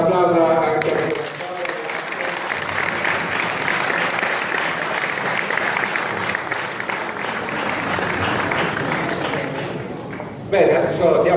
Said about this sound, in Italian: un applauso anche a te